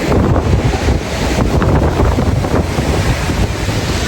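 Sea waves wash onto a beach at sunset while strong wind buffets the microphone, a loud, continuous rushing roar with surging swells and no voices.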